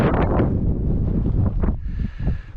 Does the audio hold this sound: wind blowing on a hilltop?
yes